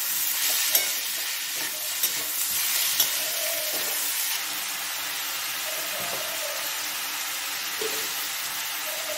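Chicken fries in a pan with onions, making a steady, close hiss of sizzling oil with a few light stirring knocks early on.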